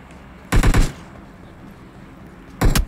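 Gunfire in the video game PUBG: two loud, close bursts of rapid automatic fire, each about three or four shots, separated by a couple of seconds of quiet game ambience, with no talking.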